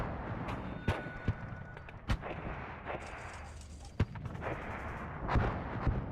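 Artillery fire in the real-time strategy game WARNO: several sharp, booming shots go off at irregular intervals over a low, steady battlefield rumble.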